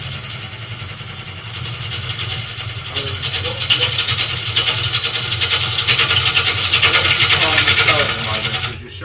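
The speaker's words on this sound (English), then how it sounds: "So all we're doing is cutting the waste wood away." A woodturning gouge cuts waste wood from a spinning blank on a lathe, a steady rasping, scraping hiss with the motor's low hum running beneath it, close and loud almost throughout.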